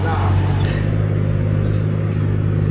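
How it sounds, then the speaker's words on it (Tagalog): A farm tractor pulling a harrow arrives at a rice field, its engine giving off a loud, close, steady rumble with a constant mechanical drone for the whole few seconds. No voices are heard. "Dumating na yung traktora ng Magarastillas"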